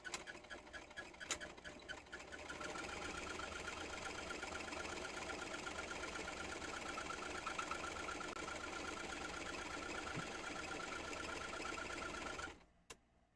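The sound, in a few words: sewing machine straight stitching fabric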